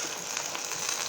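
Crepe batter sizzling in a Tefal pan with a drop of oil, a steady, close hiss of frying that holds even throughout with no voices.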